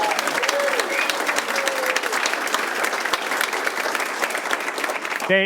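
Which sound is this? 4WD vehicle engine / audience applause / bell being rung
audience applause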